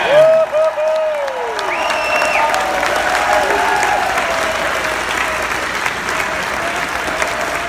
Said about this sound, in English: one more round of applause for the next nominee, for the next President of the United States of America, Governor Gary